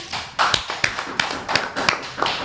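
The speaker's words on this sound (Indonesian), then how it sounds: "Tepuk tangan dong." About nine sharp, close claps in a fairly even rhythm from a small group at a student council gathering, each clap distinct and loud with short gaps between.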